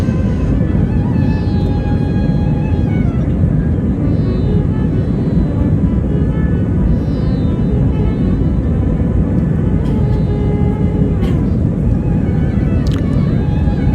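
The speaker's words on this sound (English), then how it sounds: "We are airborne now, lift off." An IndiGo airliner takes off from Kolkata airport, heard from inside the cabin as a loud, steady jet engine roar and rumble that holds constant throughout, with a faint occasional voice underneath.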